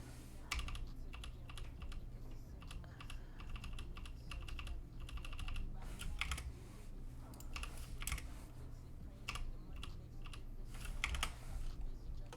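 Someone types on a clicky computer keyboard: close, crisp keystroke bursts with short pauses, steady over a low room hum, and no one talks.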